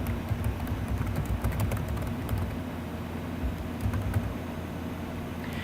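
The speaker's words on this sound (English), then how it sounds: "And then we're going to type in Temples of Janakpur." Rapid typing on a computer keyboard, close clicky keystrokes in quick bursts with short pauses, no voice over them.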